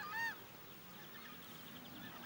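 One loud, brassy honk from a southern screamer rings out at the start, then fades into faint, distant background calls and ambient noise.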